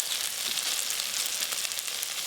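Poppy seed and cashew paste sautéing in a pan produces a steady, close, hissing sizzle with crackly bright texture throughout, uninterrupted by voices.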